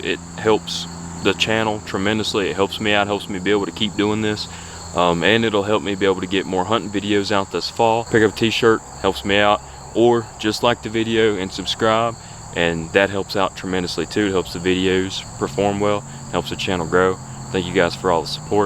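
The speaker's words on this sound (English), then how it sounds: "Crickets are chirping, it sounds like fall" Outdoor crickets in early fall keep up a steady high chirping drone throughout, underneath someone talking continuously close by.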